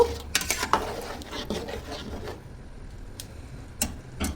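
Green chilies stirred in a pan, with a utensil making scattered light clinks and scrapes against the metal, some closer and sharper, others soft, over quiet background noise.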